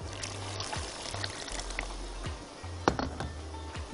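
Water is poured into a pot of cooking sayadieh rice, fish-style rice with tomato, producing a soft, steady trickle and splash near the microphone in a home kitchen, with faint clinks and no talking.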